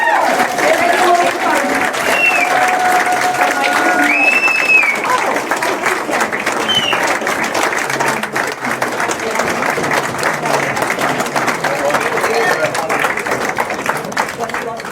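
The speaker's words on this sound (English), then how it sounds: "Let's give a big round of applause for Bob" A big round of applause for a speaker at an Independence Party event in Medicine Hat, Alberta, steady dense clapping from a crowd sustained loudly throughout, with faint cheers and whistles mixed in.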